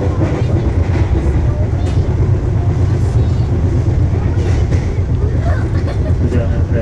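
Argo Dwipangga executive train carriage in motion, a continuous loud low rumble with faint rhythmic clatter of wheels on rails, heard steadily from inside the car.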